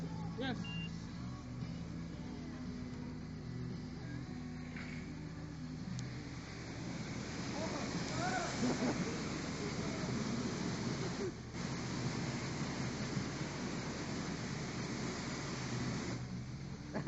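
A car wash spray wand rinses a bike, making a steady hiss of water under a hum of machinery. People talk over it, and there are a few beeps.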